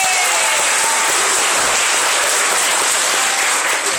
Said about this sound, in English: round of applause for Byron